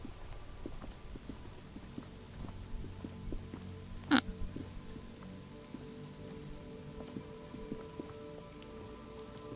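Steady rain patters across surfaces in a video game world, a soft continuous patter of drops with faint ticks and one brief sharp clatter, no voices over it.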